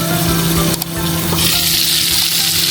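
A steak with rosemary leaves fries in a hot pan, giving a steady, close crackling sizzle with a brief clatter partway through.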